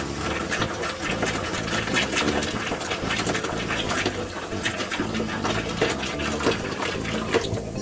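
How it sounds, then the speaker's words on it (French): Water flushed through the drinking-water tank lines and taps, cold then hot, a loud continuous rushing flow with a steady pump-like hum throughout. "Je n'oublie pas de faire circuler l'eau dans tous les circuits, eau froide puis eau chaude."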